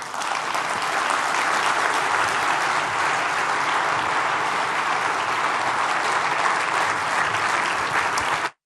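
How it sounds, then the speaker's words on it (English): An audience at a televised Nigerian forum on democracy and the free market economy applauds, with sustained, even and loud clapping that fills the hall and then cuts off abruptly. "I think he deserves another round of applause"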